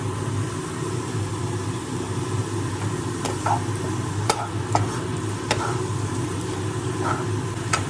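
Chopped green chilies frying in a pan, a steady sizzle with a few sharp clicks of stirring against the metal, close and continuous throughout.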